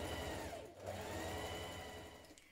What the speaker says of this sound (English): So let's stitch this band in place now.